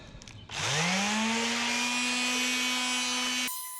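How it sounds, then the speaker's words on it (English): A power sander grinds rust off the body of a Class B camper van, starting with a rising whine that settles into a loud, steady, high-pitched drone for about three seconds before cutting off. "This sander got a complete workout."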